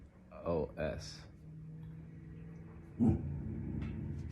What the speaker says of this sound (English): No barking, Mercy.